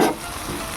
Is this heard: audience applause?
no